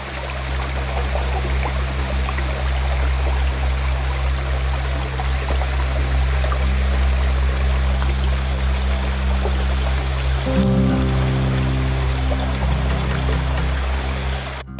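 A river in the Costa Rican rainforest flows in a continuous, close rushing wash, loud and steady throughout, with a brief splashy disturbance partway through and no speech.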